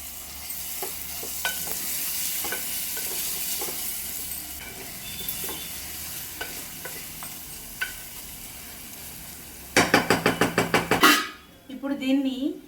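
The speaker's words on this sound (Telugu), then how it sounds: "ఆ మటన్ ఉంది కదండి ఇప్పుడు ఇందులోకి వేసుకుంటున్నాను" Mutton frying in a pan, a continuous sizzle with periodic spatula scrapes and taps as it is stirred, then a burst of rapid metallic clattering before a voice speaks at the close.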